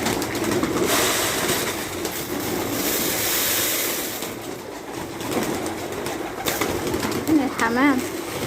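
Hungry pigeons cooing at a dovecote, soft low coos near the end over a loud constant rushing background, with a person talking throughout.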